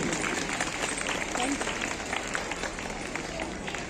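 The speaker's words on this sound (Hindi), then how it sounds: "तालियां रुकनी नहीं चाहिए।" Audience applause at a school teachers' award function, clapping mixed with crowd noise and voices over a short stretch.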